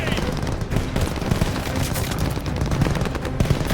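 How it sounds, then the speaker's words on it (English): Dense, continuous machine gun fire from an MG position in a Call of Duty: Vanguard wartime mission, with loud rapid bursts and shouting mixed in throughout. "Suppress that MG! Hitting the MG!"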